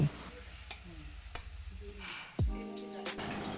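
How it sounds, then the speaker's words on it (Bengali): Mixed vegetables sizzle gently in a pan while a spatula stirs them, soft scraping knocks rising over the steady frying, moderately close and fairly quiet. "খুন্তি দিয়ে একটু নাড়াচাড়া করে সবজিগুলোকে কষিয়ে নেব"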